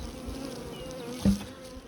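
Honey bees from bulk splits buzz steadily around a hive, a dense, close insect drone with one louder bee passing near midway through.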